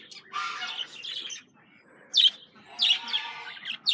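A male budgie in a breeding flight cage gives short bursts of high, scratchy chirps, close and fairly loud, separated by brief quiet gaps.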